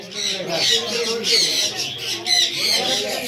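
An African grey parrot at a Mirpur market gives repeated loud, close squawks and harsh calls in uneven bursts, with people talking around it.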